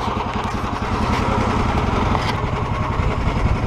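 The engine of a two-seater light aircraft, a biplane, runs close by with a loud, steady buzzing drone and rapid pulsing vibration, alone and unbroken.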